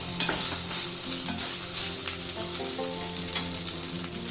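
Cooked lemon rice stirred in a hot pan, with steady frying sizzle and repeated scraping and stirring strokes throughout, close and fairly loud with no voices.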